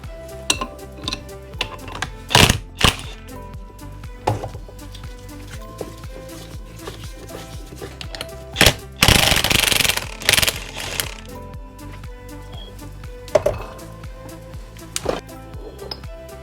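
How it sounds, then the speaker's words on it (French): A rotor nut being unscrewed on a Suzuki 600 DR motorcycle engine during restoration, with repeated metallic clanks and ratcheting clicks, a burst of harsh grinding midway, and a voice talking intermittently between the tool sounds. "Donc maintenant, il faut que je le dévisse"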